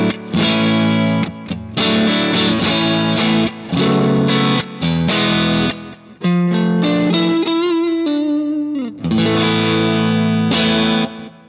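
Electric guitar through a Kemper 65 London amp profile on the 12AX7 channel, loud distorted chords and single notes in choppy phrases with brief gaps, a bend, and a final ringing chord.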